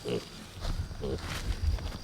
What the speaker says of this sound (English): Pigs bark when they're excited